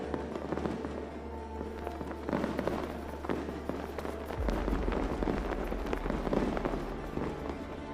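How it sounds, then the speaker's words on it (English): Fireworks bursting in a Mortal Kombat abridged scene, a steady stream of crackling pops and thuds layered over a low rumbling drone, fairly loud throughout with no talk. "A moment to enjoy these fireworks"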